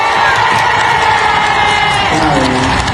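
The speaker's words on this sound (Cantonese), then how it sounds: "再一次俾最熱烈嘅掌聲" A concert crowd at an arena show roars with cheers, whoops and applause, a loud, dense, continuous wall of sound with shouting voices throughout.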